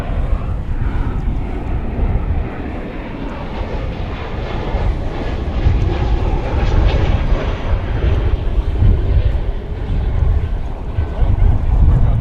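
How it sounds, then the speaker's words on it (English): A Boeing 777 at DFW Airport roars loudly and steadily throughout, its engine rumble swelling slightly midway, with wind buffeting the microphone and a voice speaking over the noise. "777 aircraft."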